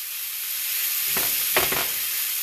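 Lamb sizzling and frying in a pan over a gas stove at medium heat, a steady bright hiss with a few louder crackling bursts as the meat is stirred, close and without voices.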